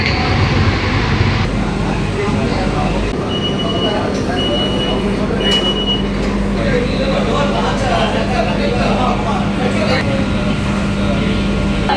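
Inside a new Chennai AC suburban train, a loud, continuous rumble of wheels and carriage noise runs throughout, with voices heard over it.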